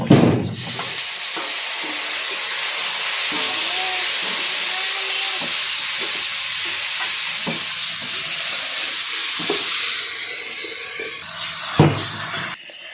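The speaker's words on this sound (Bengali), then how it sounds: "তো মশলা ভাজা হয়ে গেছে" Spices frying in a pan for a rui fish and corn dal dish, a steady steamy hiss with occasional stirring knocks and a brief louder clatter near the end.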